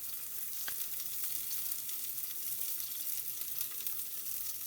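Onions frying in hot oil in a pressure cooker with cinnamon, fennel and poppy seeds for tomato rice, giving a steady, soft, close sizzle with faint crackles and no voices.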